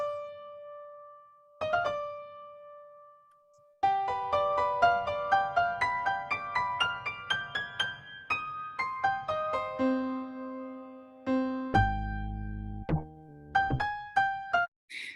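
An up-tempo tango backing track for a stage musical plays alone, with steady plucked and struck notes, rising melodic runs and a brief low rumbling passage near the end.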